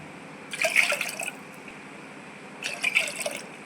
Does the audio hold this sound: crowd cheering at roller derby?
no